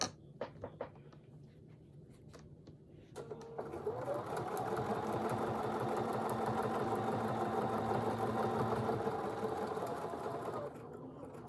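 A sewing machine stitches an appliqué quilt, starting with a few scattered taps and then running in a steady, close, continuous whir for several seconds before easing off near the end.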